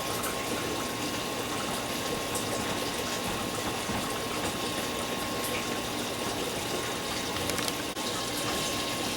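Water from an aquarium tank is siphoned into a drain as a steady, continuous rushing and gushing flow that stays even and fairly loud throughout, with no talking.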